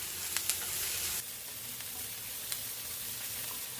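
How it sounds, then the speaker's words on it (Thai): Pounded garlic and ginger stir-fry in hot oil for an Arabic-style fish rice dish, a loud, continuous hiss and sizzle with a few sharp crackles and a spatula scrape, and no voices. "จากนั้นเราก็จะใส่ กระเทียมขิงที่เราโขลกเนาะลงไปผัดให้หอมจ้ะ"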